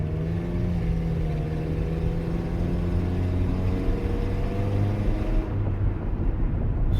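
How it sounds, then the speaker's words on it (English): A car engine drones loudly under heavy acceleration from inside the cabin, with a steady low growl and gradually shifting harmonic tones, no voices. "but under heavy acceleration, she's a bit loud."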